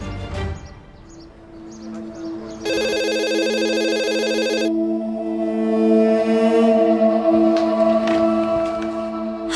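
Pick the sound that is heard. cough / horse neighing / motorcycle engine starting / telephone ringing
telephone ringing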